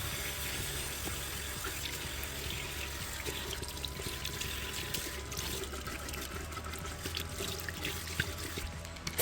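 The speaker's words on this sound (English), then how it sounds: "I'm going to go through with water one more time and rinse off the Barkeeper's Friend." Steady running faucet water rinsing Barkeeper's Friend cleanser off a sink spout, a continuous close splash and flow with no talking.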